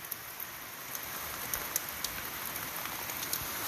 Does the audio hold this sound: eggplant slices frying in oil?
no